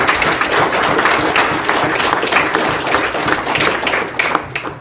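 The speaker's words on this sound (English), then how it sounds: "So a big round of applause, please, for my team." Audience applause for a mayor's council at a community association annual general meeting, steady dense clapping that carries on at an even level through the whole stretch.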